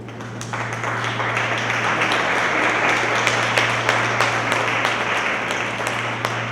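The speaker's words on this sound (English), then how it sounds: "Another round of applause." Audience applause after a speaker at a Catholic social justice panel discussion, a steady, full round of clapping from a sizeable room over a constant low electrical hum, sustained throughout.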